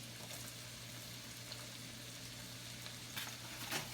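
Celery hits a hot pan for a cream sauce and sizzles in a soft, steady hiss, with a few louder crackles toward the end.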